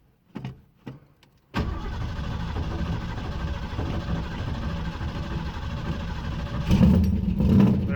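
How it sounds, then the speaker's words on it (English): A Ford Maverick engine fitted with a Holley carburetor cranks over after a few short knocks, then runs in a steady close rumble that swells louder toward the end. "So I'm just gonna crank it over. It's gonna take a moment for fuel to get there."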